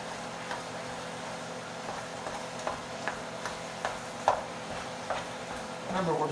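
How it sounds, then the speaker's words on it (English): Taco meat with steak, peppers and onions browning in a pan, a low continuous sizzle with regular light scrapes and taps of a utensil stirring, moderately close. "Remember, we're browning our meat."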